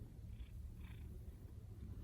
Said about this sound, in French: Il est gentil ce chat.